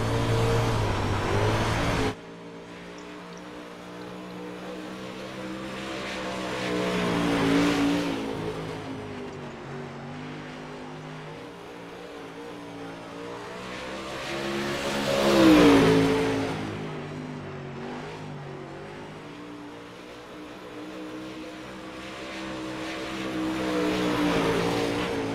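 An UMP Modified dirt race car lapping Eldora in iRacing, its engine droning and rising and falling through the corners, with higher-pitched surges around the middle and again at the end, loud and continuous.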